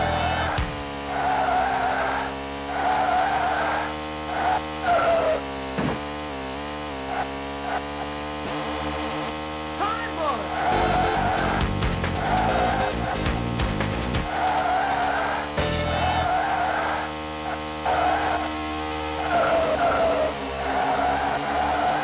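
Stock cars in the video game Virtua Racing Deluxe drift through high-speed corners on the Highland course, with a droning engine tone and repeated long tire squeals and skids, loud and continuous.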